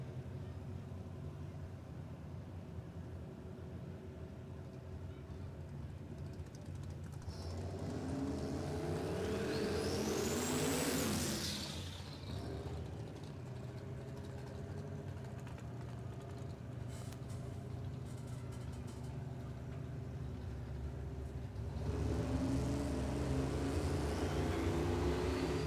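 Two Holden Torana drag cars, an early LC six-cylinder against a later LX V8, launch on a no-prep strip at Warwick Dragway, Australia: engines rise into a loud revving roar, fade, then swell again near the end.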